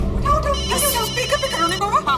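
A telephone rings with a repeating electronic ringtone in a home scene from a Hindi sitcom, the melodic tone sounding close and steady while people talk over it.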